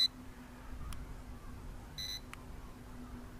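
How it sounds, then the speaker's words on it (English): A JJRC X15 Dragonfly drone gives a few short electronic beeps at intervals over a quiet background hum, including a quick double tone. "Now, I don't know why it's beeping."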